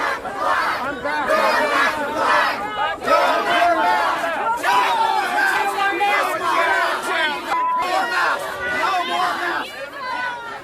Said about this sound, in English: the crowd is chanting at local school board members